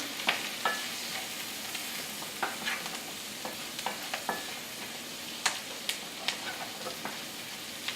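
Vegetables saute in a pan for a fettuccine Alfredo with veggies, with a soft constant sizzle and regular sharp clicks and scrapes of a utensil stirring them.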